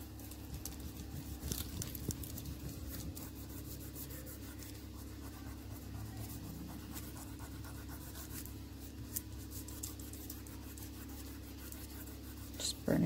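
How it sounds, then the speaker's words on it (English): A polymer clay veneer being burnished by hand, making a continuous soft rubbing and scratching texture that stays low and steady throughout. "Burnishing it back down again."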